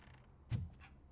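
Door creaks open in a video game with a single short, sharp creak and a brief mechanical follow-on, faint and alone against quiet background.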